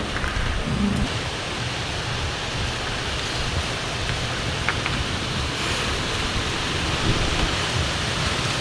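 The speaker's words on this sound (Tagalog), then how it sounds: "Umuulan." Morning rain falls as a steady, soft hiss of drops that holds evenly throughout, with no talk.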